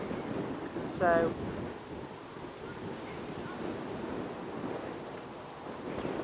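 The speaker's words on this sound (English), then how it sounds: "If you can hear that gusting now, I think even my socks are picking that up now." Strong gusty wind outdoors at Manchester Airport buffets the microphone as a low, rumbling roar that swells and eases, with a brief short whistle-like tone and a spoken word early on.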